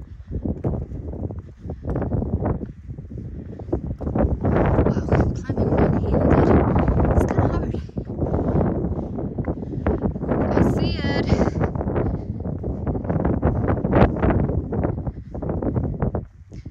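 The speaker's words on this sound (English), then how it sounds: "Windy, chill." Strong, steady wind gusts across an exposed mountain ridge on the Appalachian Trail in the Mahoosuc range, a loud, continuous broadband rush that buffets close to the microphone for the whole stretch.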